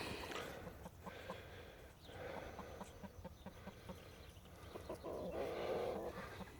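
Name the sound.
laying hens clucking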